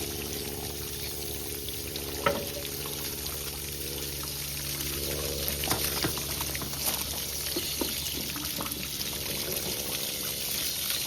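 Water flushes out of an RV water heater through a hose in a continuous rushing, gurgling stream, steady and close, with a few faint knocks mixed in.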